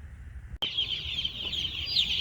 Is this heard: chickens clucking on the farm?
yes